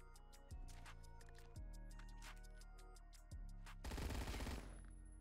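A PPSH-41 submachine gun fires in Roblox Phantom Forces, with short rattling bursts and a longer rapid stream near the end over a steady musical backdrop.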